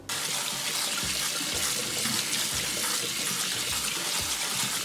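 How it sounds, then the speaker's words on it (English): Cold tap water runs steadily over freshly cooked noodles in a kitchen sink, a loud, continuous splashing rush that fills the whole stretch with no talking. "I'm going to rinse this with some cold water just to take the heat off of it"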